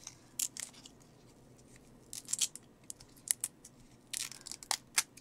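Big pink scissors snipping a Velcro dot, with sharp crisp cuts in small clusters at a close, quiet distance and no talk.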